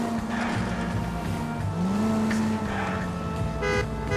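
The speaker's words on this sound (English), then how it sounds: "Now would be a bad time to forget how to drive, Cole." A car is driven through the streets in L.A. Noire, with a steady engine drone that rises in pitch as it accelerates, plus faint tire noise and background game sounds, no talking.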